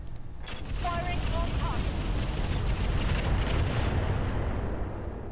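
Incendiary weapon fire in the Roguetech mech video game, a broad roaring blast of bursting explosions and rumble lasting several seconds, with a few faint higher electronic chirps early on.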